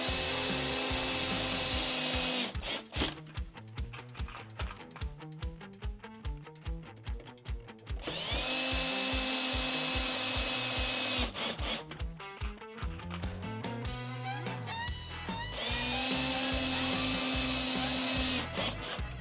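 A power drill bores pilot holes into a wooden crate in a home garage, with bursts of steady high whine broken by short stops and grinding, rasping bites into the wood, loud and close with no talk.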